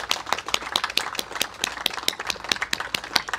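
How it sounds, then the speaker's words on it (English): An audience at the grand opening of the 'A Rosie Outlook' exhibit at Boyertown Museum gives a round of applause, with crisp, fairly quick hand claps that stay loud and close throughout, no voices. "let's do a big round of applause for Beth and her grandmother as well"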